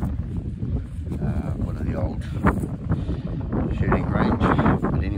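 Wind blows outdoors at a dirt drop-off site during a relic hunt, buffeting the microphone with a steady, loud low rumble while someone talks over it.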